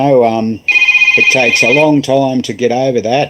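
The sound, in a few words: phone ringing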